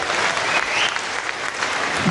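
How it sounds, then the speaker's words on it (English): A crowd at a professional wrestling bout applauds briefly for wrestler Bob Anthony, a dense, even burst of clapping from a packed audience. "A nice round of applause, Bob Anthony."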